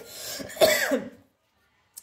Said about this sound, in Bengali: শুকনো লঙ্কা বেজে দিতেও কাশি হচ্ছে